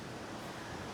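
Constant broadband rushing water, a faint but steady roar of a waterfall with no breaks or other sounds.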